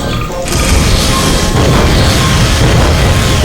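A loud, sustained burst of explosive noise in the game Garry's Mod, rumbling and crackling continuously with no pauses.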